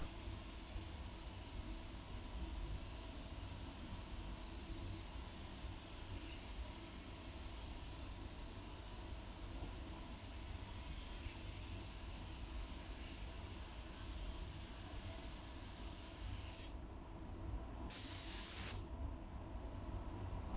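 A Walcom Kombat HVLP spray gun lays down clear coat on a blue metallic GM car panel, a steady loud hiss of air and atomised paint running unbroken for about twenty seconds with no talking.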